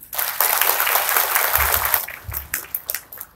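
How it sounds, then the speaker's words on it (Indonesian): Audience applause for teachers who chose to become guru penggerak, a dense burst of clapping that thins out into scattered claps near the end. "Boleh tepuk tangan."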